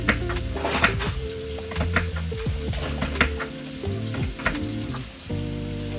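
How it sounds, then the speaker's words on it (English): Meat for birria tacos sizzles and crackles as it stir-fries in a hot pan, with scattered clinks and scrapes of a utensil stirring, close and steady. "So I got my meat stir frying"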